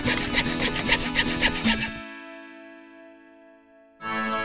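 Hand saw cutting through wooden boards, a quick series of rhythmic rasping strokes that ends abruptly, followed by a silence and then a short burst of sound at the close.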